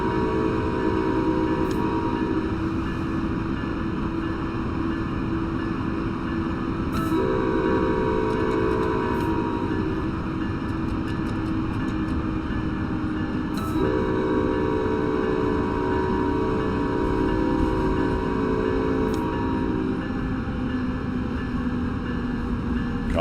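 A passenger train in the Train Sim World 6 game on the New York to Dover line rolls steadily into a station, with continuous loud rumbling and several short electronic tone changes at intervals.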